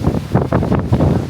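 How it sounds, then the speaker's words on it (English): Strong gusting wind buffets the microphone outdoors near a hotel bus stop, a loud continuous low roar with rapid irregular surges and no talk. "it is so windy outside"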